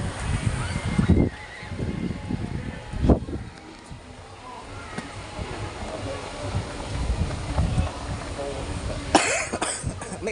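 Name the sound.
cough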